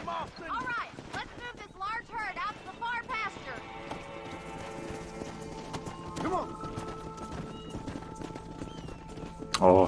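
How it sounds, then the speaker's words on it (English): Horse hooves clip-clop in the Red Dead Redemption video game, a steady near rhythm of hoofbeats early on, with a whinny later, while someone talks over the gameplay. "Oh, we got a stray. That's a horse."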